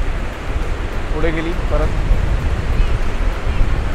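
High-tide sea waves roll onto Shrivardhan beach with a constant surf wash and wind rumble, while people talk over it nearby.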